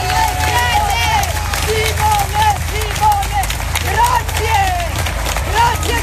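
Crowd at a CasaPound rally applauding Simone Di Stefano: dense, steady clapping with cheering voices mixed in, continuous and close for the whole stretch.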